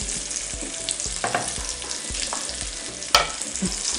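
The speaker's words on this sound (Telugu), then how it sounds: "ఇప్పుడు ఆనియన్ వేసుకున్నాక బాగా ఫ్రై చేసుకోవాలి" Chili and onion fry in a pan with a steady close sizzle, broken by a few stirring scrapes and one sharp clatter, no speech.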